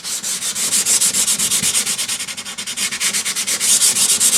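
Steady back-and-forth sanding of painted MDF in a light rub down, a quick rhythmic rasp of strokes repeating evenly and close by, with no talk over it.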